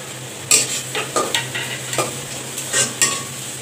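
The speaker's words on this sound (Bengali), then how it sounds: "পেঁয়াজটা হালকা করে একটু ভেজে নিচ্ছি" Onions frying lightly in a pan for a spicy Bengali chicken curry, a soft sizzle under a string of close spatula scrapes and taps against the pan, no voices.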